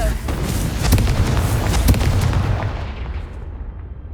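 Booming Confringo spell blasts in the video game Hogwarts Legacy, a dense run of loud, rumbling explosive hits over about three seconds that fade into a decaying rumble.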